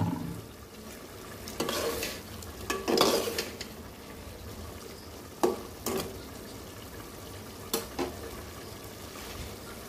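Malabar spinach tossed into a pan with shrimp, stirred with several scraping, clattering strokes over a steady low sizzle of frying.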